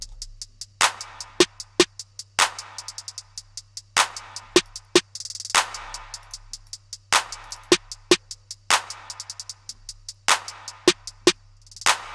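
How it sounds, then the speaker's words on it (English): A drum machine beat made in Studio One 4 with sharp, punchy claps and snare hits in a steady repeating pattern, over a low sustained hum and quick ticking hi-hats. "if I bring in that clap, actually I'm gonna bring the clap and the snare"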